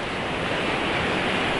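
Strong sea waves crash and roll onto a beach in Antalya, Turkey, a loud continuous surf roar mixed with wind buffeting the microphone.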